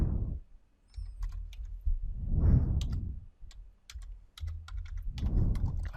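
Rapid keystrokes on a computer keyboard while entering commands in MATLAB, a steady run of sharp clicks across the whole stretch, close and fairly quiet, with no talk over it.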